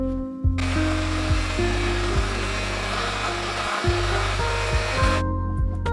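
A heat gun blows steadily as it warms wax into an old leather wallet, a loud continuous rushing hiss with a shifting motor hum that starts abruptly and cuts off near the end; no one speaks.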